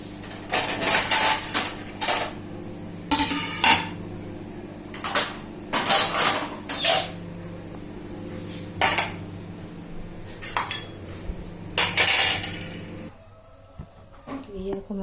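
Dishes and cutlery clinking while food is served in a home kitchen, a series of sharp metallic clinks and clatters in irregular bursts close by, with someone talking between and under them.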